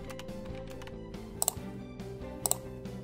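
A few faint, quick keystrokes as a domain name is typed on a computer keyboard, sitting beneath a steady background music bed.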